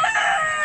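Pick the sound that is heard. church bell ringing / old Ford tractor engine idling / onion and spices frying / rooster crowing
rooster crowing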